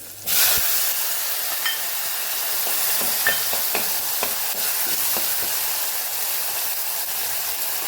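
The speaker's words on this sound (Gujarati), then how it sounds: "સાથે ટમેટાનો વઘાર કરી દઈશું" Chopped tomatoes sizzle loudly in hot oil while being tempered with garlic chutney on a lowered gas flame for a tuvar, brinjal and potato curry, a steady broadband hiss with scattered sharp crackles and pops, close and alone.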